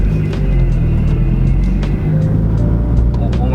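A turbocharged car accelerates hard on a pass, giving a loud, steady engine drone and rumble with faint clicks over the top. It is heard close and continuously for a few seconds.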